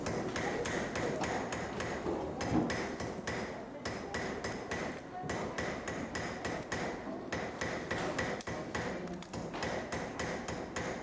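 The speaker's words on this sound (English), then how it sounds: "That is a splinter hammer. That's the hand hammering." Rapid hand hammering on metal with a splinter hammer, a steady stream of sharp ringing taps with brief pauses, close and fairly loud, with faint background voices.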